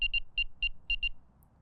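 A Nash R4 Siren carp fishing bite alarm sounds six quick high-pitched beeps in an uneven burst, clear and close, with no talking.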